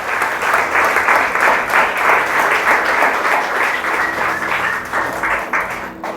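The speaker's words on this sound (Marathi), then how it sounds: "जोरदार टाळ्या वाजवा, स्वतःसाठी तरी वाजवा" A church congregation at a sermon breaks into loud, sustained applause, dense clapping from many hands filling the room for several seconds before tapering slightly at the end.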